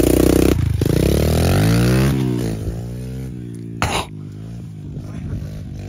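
A pit bike engine revs hard at a shovel-built dirt track, a loud close buzzing whine that climbs and falls through several throttle blips before settling to a lower idle.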